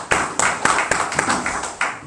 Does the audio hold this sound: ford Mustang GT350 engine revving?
no